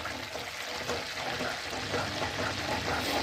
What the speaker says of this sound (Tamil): இப்போ இன்னும் சவுண்டு வருது பாருங்கள், படப்படன்னு சவுண்டு வருது.